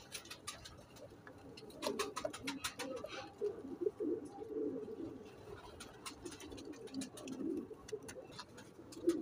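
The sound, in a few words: cooing of a pigeon pair, Teddy female and Rampuri male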